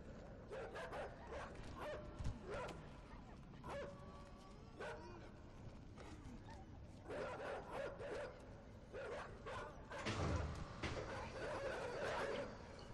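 Dogs in the video game INSIDE bark, yip and whimper in repeated bursts over a constant dense game ambience, moderately loud, with no talking.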